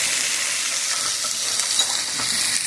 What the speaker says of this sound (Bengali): পটল আলুটা ভালো করে ভেজে নেবো